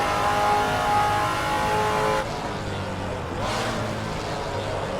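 A vintage Trans Am race car in the Assetto Corsa racing game runs at full throttle, its engine roaring loud and steady. The pitch holds high, then drops a little mid-clip and carries on strong without a break.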